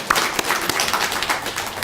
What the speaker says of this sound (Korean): 장남들에게 박수 한번 주실까요?